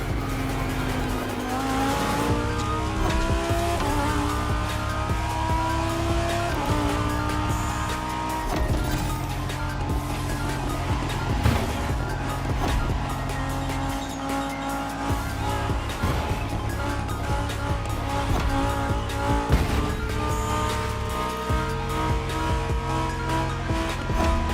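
Hypercar with performance tuning driven in the racing video game The Crew Motorfest, a steady loud engine drone with shifting revs and occasional tire squeal, continuous throughout with music-like tonal layers and no talk.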